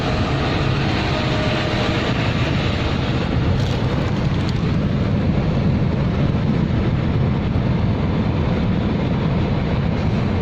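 A train runs near Makkah railway station on a bridge, coming from Jeddah, with a loud, steady rumble and roar that holds unbroken for about ten seconds.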